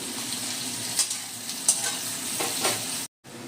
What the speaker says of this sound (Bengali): পেঁয়াজটা আমি 5 মিনিটের জন্য ভেজে নেব।